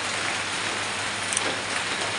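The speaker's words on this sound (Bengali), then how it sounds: "কারণ 12টার পরে ঠিকই বৃষ্টি কমে যাবে" Steady rain falls close by in a dense, even hiss of drops on surfaces, continuous and moderately loud with no voices.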